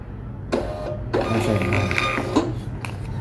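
A Bluetooth receipt printer prints a receipt, a buzzing mechanical whir in bursts with brief pauses between, close and fairly loud, no talking over it.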